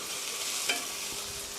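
Meat and garlic stir-frying in a pan for japchae, a steady hiss of sizzling with a brief scrape of stirring near the middle, close and alone.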